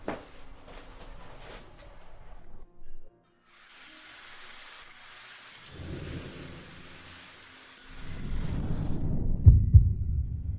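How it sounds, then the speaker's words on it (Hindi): Fast heartbeat sound effect in a dramatic scene: low, muffled thumping pulses grow heavier and louder toward the end, with no talking. "मेरी धड़कन इतनी तेज क्यों है?"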